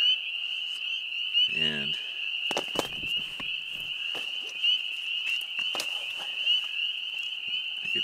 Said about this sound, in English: A symphony of frogs.